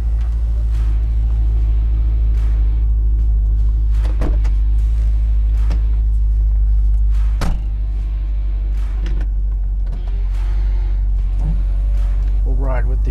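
A cold 1962 Corvette restomod idles as it warms up, a deep, steady rumble heard from inside the car, with someone talking over it and a few clicks and thumps.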